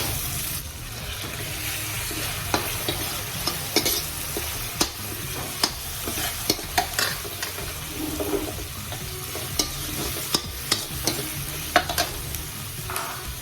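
Meat and shrimp paste for pinakbet stirred and fried in a pan, a steady broadband sizzle with repeated sharp scraping clicks of the utensil, close and fairly loud, with no one talking.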